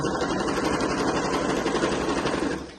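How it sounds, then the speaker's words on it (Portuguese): A domestic sewing machine stitches a strap for a travel bag with a fast, steady mechanical whir close by. The sound slows and fades out at the end. "a minha máquina doméstica costura sem muita dificuldade"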